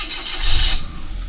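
A Suzuki DA52V turbo kei van with automatic transmission starts up: a short loud cranking burst that catches and settles into a low engine idle, all within about a second and a half.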